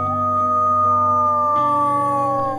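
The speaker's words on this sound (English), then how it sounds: "And they're all wolves." Wolves at a sanctuary in the Florida Panhandle howl together: several long, overlapping, sustained tones that hold steady and shift pitch, loud and close, with no voices.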